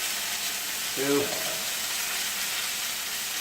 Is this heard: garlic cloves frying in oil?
yes